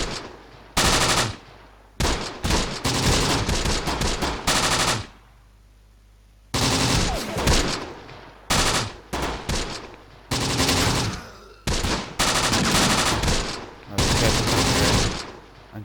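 Loud, close machine gun fire in the World War II game Close Combat: The Bloody First comes in repeated rapid bursts, separated by short pauses and one longer lull.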